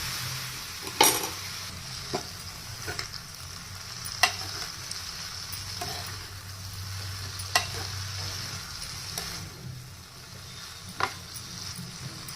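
Beans palya being stirred in a pan with its tempering: a soft constant sizzle broken by intermittent spoon scrapes and clinks against the metal, close and fairly quiet.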